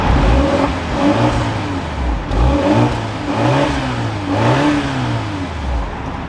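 A 2025 BMW 430i Coupe starts up and its exhaust revs repeatedly, rising and falling blips over a steady idle, close and loud.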